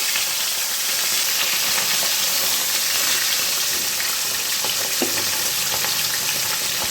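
Fish frying in a pan in a home kitchen makes a constant, crackling sizzle close up, with a few small pops and the clink of stirring.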